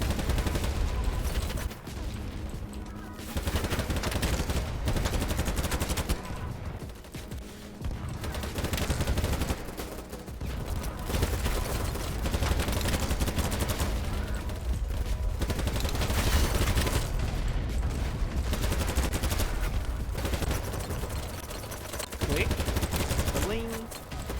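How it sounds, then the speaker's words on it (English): Rifle gunfire in the video game BattleBit Remastered, repeated bursts and single taps of loud, dense shots, nearly continuous with brief pauses between strings of fire. "tap firing and burst firing can come into play"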